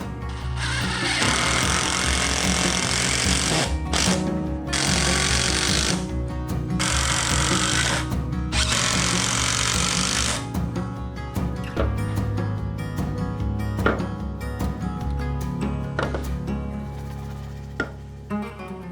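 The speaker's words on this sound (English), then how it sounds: "I'm just gonna use my little Makita and just trim off the tops of these to get them to the same height so it's level" A small Makita power tool trims the tops of wooden boards for a range vent hood frame. Loud, close cutting whines come in bursts over the first ten seconds, followed by quieter clunks and handling noise.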